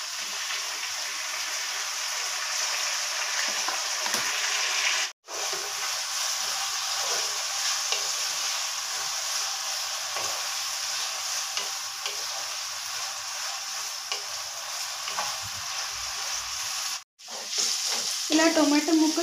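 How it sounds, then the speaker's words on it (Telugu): Tomato pieces and green chillies fry for a tomato and potato curry, giving a dense, continuous sizzle with stirring, close up, with two brief dropouts and a louder burst of spattering near the end. "ఇలా టొమాటో ముక్కలు సాఫ్ట్గా అయ్యేలాగా ఉడికించుకోండి"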